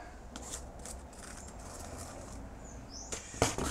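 Scissors cutting out a round template traced from a paint tin, for a sat nav install on a BMW R1150GS motorcycle: soft crisp snips and rustles of material come at irregular intervals, close and quiet, with a sharper cut near the end.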